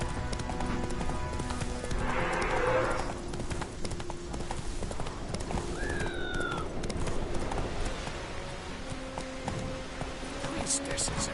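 Hoofbeats of Roach, Geralt's horse in The Witcher 3, galloping in a steady clip-clop rhythm through a loud game soundscape with music, effects and brief voices over it.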